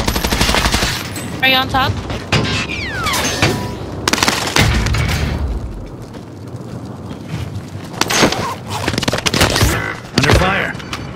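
Rapid bursts of automatic gunfire and booming shots in Call of Duty: Modern Warfare, loud and close, with mechanical clicks and brief gaps between volleys, while a player talks over the action.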